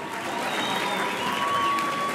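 A crowd at a samba awards ceremony applauds a singer for the Vila Isabel samba school, with steady dense clapping that fills the hall loudly and evenly, a few whistles or cheers riding above it.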